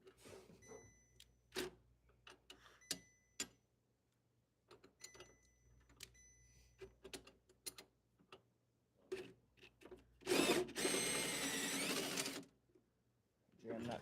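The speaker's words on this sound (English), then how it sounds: "Attachment there, put our drill on." A power drill whirs in a sustained burst lasting about two seconds while removing a bolt from a treadmill motor, surrounded by short mechanical clicks and taps with some speech in the background.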